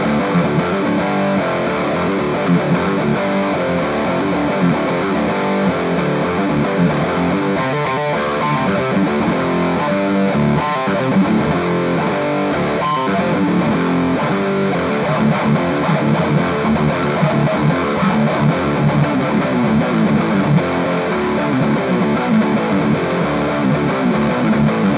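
Devilcat Jimmy guitar amplifier pushed to saturated gain, a thick, continuous wall of distorted guitar playing loudly and steadily throughout, with no talking over it.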